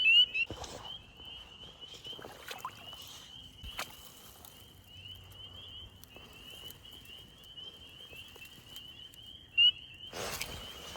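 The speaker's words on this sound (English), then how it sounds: "As you can hear very close to us, that is the sound these guys are making, these spring peepers" Spring peeper frogs call close by in a spring wetland, making a thin, continuous high trill under rustling, splashing and scattered footstep noises.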